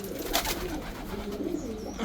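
Racing pigeon cooing at the loft after a 350 km race, a steady low throaty coo running continuously and fairly close, with faint background noise and no talking.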